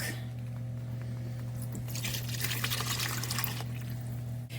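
Milk poured into a mac and cheese sauce in a pan, a soft steady wash of liquid under a constant low kitchen hum, faint and continuous with no talk.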